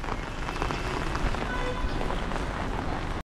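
Rain pours steadily during a road trip in China between Qingdao and Hubei, drumming densely on nearby surfaces. The even, close hiss of drops continues unbroken, then cuts off abruptly.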